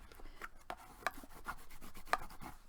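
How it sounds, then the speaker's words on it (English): A bone folder is rubbed firmly over paper to burnish it flat, giving a series of quick, dry scraping strokes at an uneven rhythm, close and fairly quiet with no talking. "So give it a good burnish so that it doesn't pop off."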